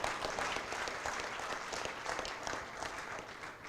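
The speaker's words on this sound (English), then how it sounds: "Can you give yourself a round of applause?" Applause from an audience at a public hearing on a veld and forest fire bill in a Klapmuts multipurpose hall, a fairly quiet, busy patter of many hands clapping steadily, fading slightly toward the end.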